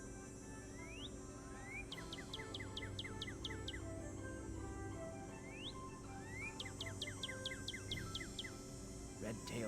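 A Northern cardinal call from the Nancy Drew game Ghost Dogs of Moon Lake comes in two phrases, each a rising whistled slur followed by a rapid string of sharp chips, soft and clear over a faint hum.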